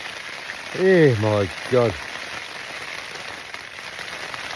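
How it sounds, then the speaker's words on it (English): Heavy rain drums steadily on a surface outdoors on a wet hiking trail, a dense continuous hiss throughout, while a man briefly exclaims near the start. "listen to that rain"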